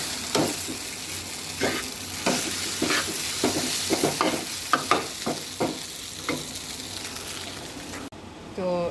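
Snack ingredients fry lightly in a home kitchen pan, with a steady sizzle broken by repeated scraping stirs of a spatula, close and fairly loud, ending with a brief different noise at the close.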